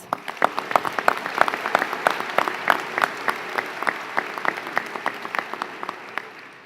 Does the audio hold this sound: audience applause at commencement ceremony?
yes